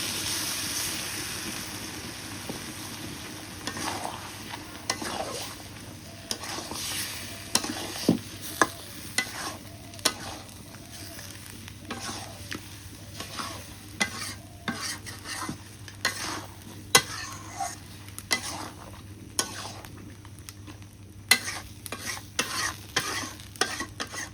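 Catla fish curry with mashed potato being stir-fried in a pan, with a continuous soft sizzle and frequent scraping, clinking stirs of a spatula over a long steady stretch.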